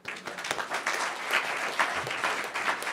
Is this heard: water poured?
no